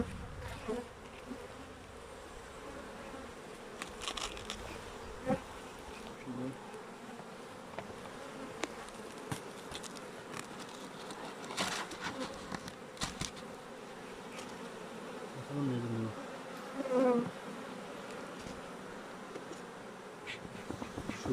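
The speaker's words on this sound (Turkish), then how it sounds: "Arı taşmış." Honeybees buzz steadily around a hive, a dense, low drone with occasional louder individual bees passing close by.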